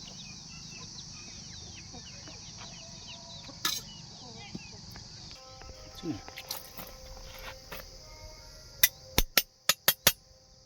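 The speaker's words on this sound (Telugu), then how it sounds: "కోడిపిల్ల కూడా దాటుతుంది" A chicken clucks in short, scattered calls at a household where old silverware is traded for cookware, followed by a quick run of sharp metallic clinks near the end.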